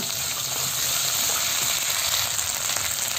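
Ginger paste stirred and fried in a pan for khichuri, a steady close hiss of sizzling oil with soft scraping of the spoon throughout, no voices.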